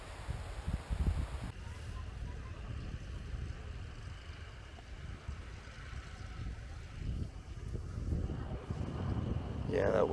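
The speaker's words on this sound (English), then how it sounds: "that wind's picking up again" Wind blows across a mountain reservoir around a canoe, a steady broadband rush that swells louder toward the end, with low gusty rumble throughout.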